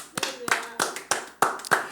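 Six sharp, evenly spaced claps ring out in a slow rhythm, close and clear against a quiet room, closing a Korean church service.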